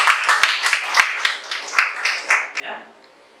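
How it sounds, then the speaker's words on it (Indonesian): A class of students applauds after a classroom presentation, a dense stretch of many hands clapping close by that swells and ebbs for about three seconds before trailing off. "Oke, kasih tepuk tangan dulu."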